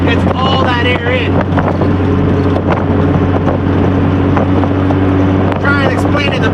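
An engine fitted with a ProTunerz intake and factory EFI runs at a steady, loud drone with a strong low hum, blended with wind buffeting and occasional short bursts of higher revving.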